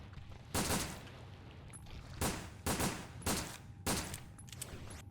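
Five heavy gunshots from Resident Evil: Dead Aim, fired one at a time at uneven intervals over a low game background rumble, each a sharp loud crack with a short decaying tail.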